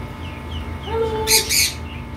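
A blue and gold macaw in a pet shop in Jeddah gives a short hoarse call followed by two loud, harsh squawks, near and distinct over a low room hum.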